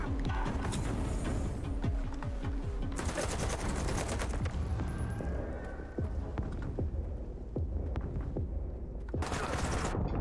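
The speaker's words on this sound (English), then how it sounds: "He's shooting through the fucking wall, man!" Rapid bursts of automatic gunfire and single shots ring out in a STALKER 2 firefight, dense and loud throughout, with someone shouting and talking over the shooting.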